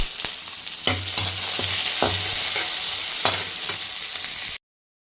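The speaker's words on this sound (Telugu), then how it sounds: "ఆనియన్స్ కరివేపాకు అయితే వేసి గోల్డెన్ బ్రౌన్ కలర్ వచ్చే వరకు వేసుకుందామండి" Onions and curry leaves sizzle in hot oil in a pan, frying until golden brown, with a steady crackle broken by several scraping stirs before it cuts off abruptly.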